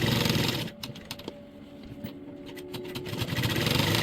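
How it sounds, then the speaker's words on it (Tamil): A sewing machine stitches around a shirt collar, giving a steady, moderately loud mechanical whir with light ticking clicks that runs the whole time, with no voices. "இப்போ நம்ம அந்த காலரை சுற்றியுமே நம்ம தையல் போட்டுக்கிறோம்"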